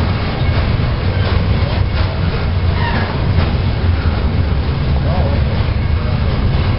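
A freight train rolls past at the Fostoria railfest, a loud, continuous rumble and rattle of rail cars close by, with people talking over it throughout.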